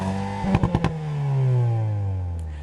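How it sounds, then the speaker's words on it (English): A Hyundai Kona N engine rumbles with a quick burst of four or five sharp exhaust pops, then a steady drone slowly falls in pitch. "it can also deliver a popcorn sound from the exhaust"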